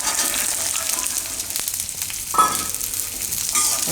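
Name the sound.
roasting green chickpeas in oil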